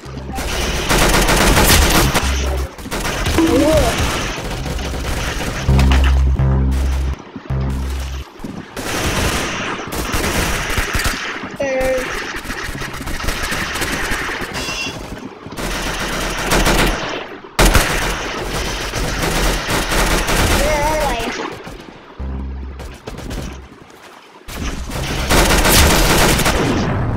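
Rapid gunfire in a video game shooter with headshot mode enabled, repeated bursts of automatic fire and single shots, loud and close, broken by brief gaps across the stretch.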